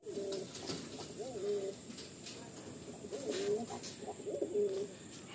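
Madrasi pigeons cooing in repeated soft, throaty phrases at close range over a steady room hum, with brief bursts of calls spread through the recording.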